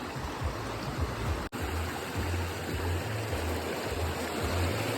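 Stream water flows steadily as people wade across a river, a continuous rushing wash with low rumbling, close by and filling the whole clip without speech.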